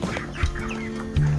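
Fayoumi chickens on a poultry farm give a few short, nasal calls close by, one at the start and a louder one near the end, over a constant background murmur.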